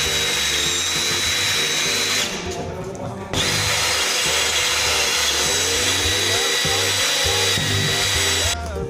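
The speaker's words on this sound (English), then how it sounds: "So drill that out, make it the correct diameter" A power drill whines loudly and steadily as it bores a hole in metal, briefly easing off midway before grinding on again, close and continuous.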